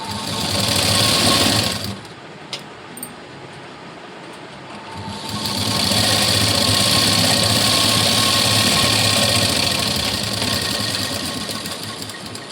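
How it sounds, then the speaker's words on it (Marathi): A sewing machine stitches the lining cross strip of a blouse, its loud close mechanical whir running in two bursts with a short quiet gap between them, with no voices. "इथे अस्तरच्या क्रॉसपट्टीवरती दाब टीप दिल्यानंतर इथे एक शिलाई देऊन घेते।"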